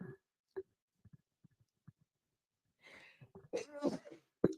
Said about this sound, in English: So I may sneeze a few times.